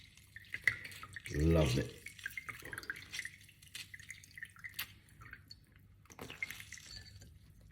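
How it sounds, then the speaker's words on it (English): Lemon juice squeezed from half a lemon into a cayenne pepper drink, heard as close, dripping trickles of liquid into a glass, with a person briefly speaking. "I'm going to squeeze the lemon juice into it like this."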